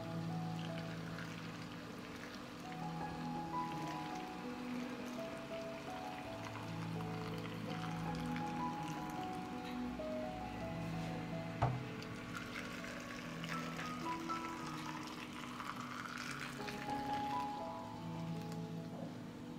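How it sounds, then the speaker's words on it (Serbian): Boiling water is poured into glass jars packed with cherries, a steady close splashing and trickling that runs unbroken for about twenty seconds, with a low hum beneath. "Voda je proključala i sipat ću je u tegle."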